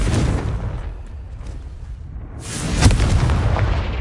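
Casting the Confringo spell in the video game Hogwarts Legacy sets off a heavy booming blast with a sharp crack, followed by a rumbling tail, after an earlier fading explosive burst.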